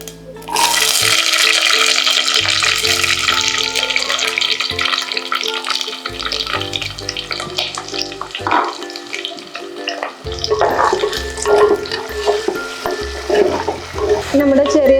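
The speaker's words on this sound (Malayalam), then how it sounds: "നമ്മുടെ ചെറിയ വെങ്കായം നല്ലോണം വതങ്ങിയിട്ടുണ്ട്." Small onions are stirred and sautéed in hot oil, making a bright, continuous sizzle with occasional scraping stirs, heard beneath background music.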